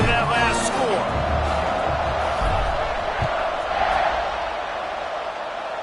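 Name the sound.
football stadium crowd buzzing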